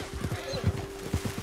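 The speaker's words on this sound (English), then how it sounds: "Think you need to rein in that horse a little." Horse sounds from Red Dead Redemption 2: low clopping hoofbeats in an uneven rhythm with a faint whinny, a steady tone running underneath, moderately loud and close.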